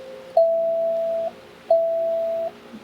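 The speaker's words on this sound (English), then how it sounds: "There's many smartphone tunes that sound like this." Two identical sustained electronic tones, each lasting under a second with a short gap between, clear and close: a smartphone new-message notification tone.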